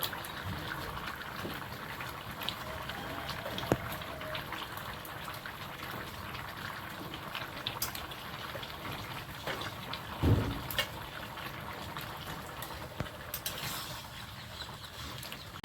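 Fish curry with vegetables and potatoes simmering in a pot, a faint, continuous bubbling with a few soft knocks. No one speaks.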